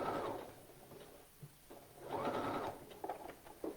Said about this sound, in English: So right now I have my Singer Heavy Duty set to a zigzag